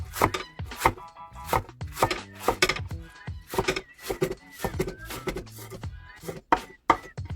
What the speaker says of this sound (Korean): 이 정도로, 이 정도로 이렇게 썰어주세요